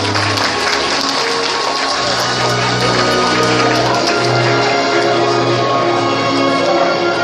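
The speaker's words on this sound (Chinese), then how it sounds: "掌声鼓励，谢谢。" Steady, loud applause from a crowd of guests at a wedding banquet as the bride's family is welcomed to the main table, continuous clapping filling the hall with music faintly underneath.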